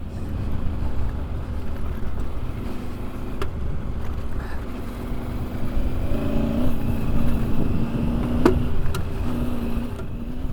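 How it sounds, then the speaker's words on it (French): Rally motorcycle engine at the Africa Eco Race, a steady droning run with wind buffeting the microphone and a few sharp shifts in pitch, loud and continuous with no speech. "Ah, la moto là, elle est géniale."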